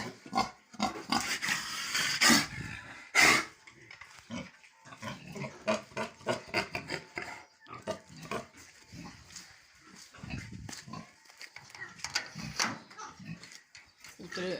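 Pigs grunting on a farm, with a stream of short, rough grunts and snorts from several animals. The grunts come close and fairly loud in uneven bursts, with some talk mixed in.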